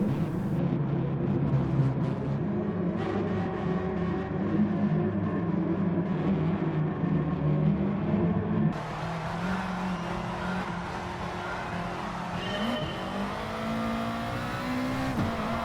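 Gr.3 race cars at Suzuka Circuit in a racing video game roar off the start together, a dense wall of engine drone and revving that shifts pitch partway through as the pack accelerates, loud and continuous with no talk.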